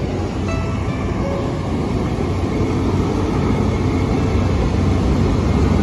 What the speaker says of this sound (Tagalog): Yan po ay LRT2.